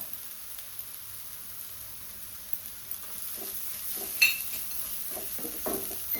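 Sesame seeds and dry coconut frying in a pan, a soft continuous sizzle with a few light stirring scrapes toward the end, fairly quiet and with no talking.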